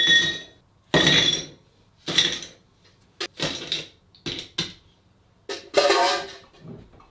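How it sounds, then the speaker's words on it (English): Several ice cubes clink and clatter into a glass one after another in sharp, bright knocks with short gaps, close and fairly loud. "let's put in some ice"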